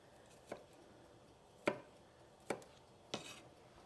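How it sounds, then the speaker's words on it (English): Knife making small cuts through garlic cloves on a cutting board, four sharp isolated taps spaced irregularly, quiet and close with no talking. "You're going to hold the cloves like this, folding your fingers under. Make little tiny cuts."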